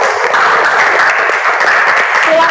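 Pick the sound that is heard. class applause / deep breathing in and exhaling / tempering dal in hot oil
class applause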